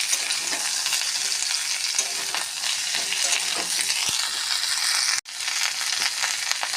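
Eggplant and tomato sizzle steadily in hot oil with other vegetables, a close, continuous crackle with stirring, broken once by a sudden brief cut near the end.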